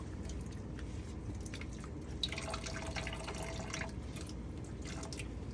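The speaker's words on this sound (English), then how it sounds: "I'm gonna rinse my teeth." Dentures are rinsed under a gently running bathroom tap, a steady close stream with splashy drips and brief wet squishing as the plates are turned in the water; no one speaks.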